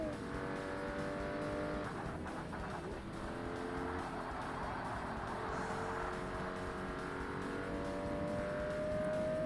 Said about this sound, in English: And they will fly past the Mazda on this bit.